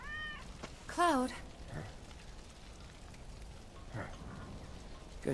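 A cat meowing in the Final Fantasy VII Remake video game: a few short meows, one clearer and louder near the start, over a soft rain-like ambient bed.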